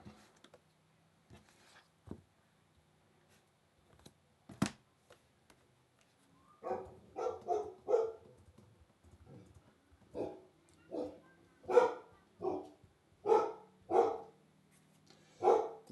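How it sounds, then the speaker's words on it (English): A dog barks repeatedly, a few scattered clicks first, then a run of sharp barks in uneven bursts, fairly close in a quiet room. "The dog is barking."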